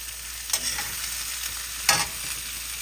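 Onions, ginger, green chilies and peas sautéing in a pan for rava upma, a steady soft sizzle with two brief spatula scrapes, no talk.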